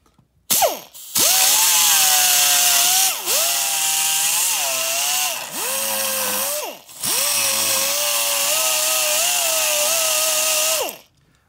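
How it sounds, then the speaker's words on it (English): A 90 degree die grinder with a small cartridge roll strips paint from a Fox Body Mustang chassis, a loud high-pitched whine in several long bursts, pitch sagging under load and rising when released. "I'm going to use a small cartridge roll on a 90 degree die grinder to remove the paint from where I want to weld"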